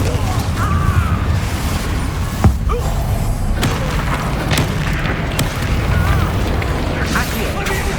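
A Confringo spell explosion in the Hogwarts Legacy video game lands as one sharp boom in the middle. Dense, loud battle noise and shouted voices surround it throughout.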